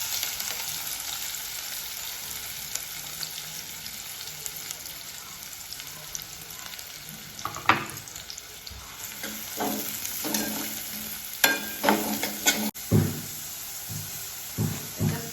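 Onions sizzle steadily in hot oil while a spoon scrapes and stirs the pan in bursts of clattering strokes, growing busier toward the end.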